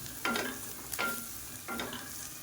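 Onions and spices are sautéed in a pan for an eggplant gravy, with three distinct scraping strokes of a spoon stirring over a soft, steady background sizzle, close and fairly quiet, with no voices.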